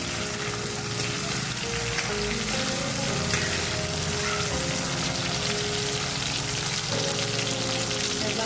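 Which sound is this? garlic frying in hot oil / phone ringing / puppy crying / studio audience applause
garlic frying in hot oil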